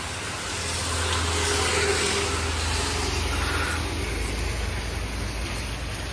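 Rain falling during a motorcycle ride between Kolhapur and Pune, a constant loud broadband hiss blended with road and engine noise, unbroken throughout with no talking.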